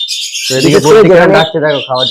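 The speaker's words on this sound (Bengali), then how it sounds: "ডাকছে বদ্রি পাখি" Budgerigars kept with other breeding cage birds chirp and squawk in quick high bursts at the start and again near the end, partly under someone talking.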